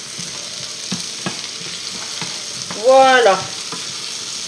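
Tournedos and potatoes sizzle steadily in a hot pan, a close, constant frying hiss with occasional stirring knocks; a voice speaks briefly partway through.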